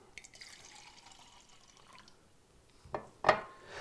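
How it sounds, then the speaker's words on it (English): Tap water poured into a small container for a water test: faint trickling and dripping at first, then a couple of louder splashing pours near the end, close by and alone. "put a little bit of tap water in here"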